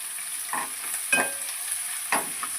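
Onions hiss and sizzle in hot oil with curry leaves in a pan, with a few louder stirring scrapes over a continuous frying crackle.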